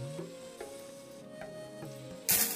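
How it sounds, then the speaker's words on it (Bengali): Cauliflower frying in oil in a wok, a steady close sizzle with soft stirring scrapes and a louder hiss burst near the end. "ফুলকপিটা একটু লাল করে ভেজে নিতে হবে"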